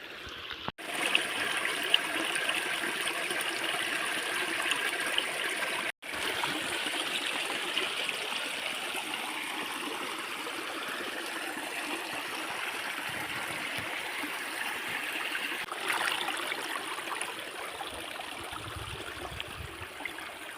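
Water from a small waterfall flows down from above, trickling continuously like a small stream, a steady rushing wash with a couple of brief dropouts.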